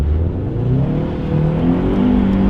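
Subaru BRZ engine held at high revs while drifting on the Utah Salt Flats, a loud continuous droning whine that rises and wavers in pitch, close and steady.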